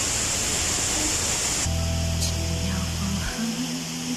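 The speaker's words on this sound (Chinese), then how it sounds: "这边左边的这个小一点的瀑布是越南的" The Detian cross-border waterfall in Guangxi roars as a broad, constant rush of falling water, with music entering partway through.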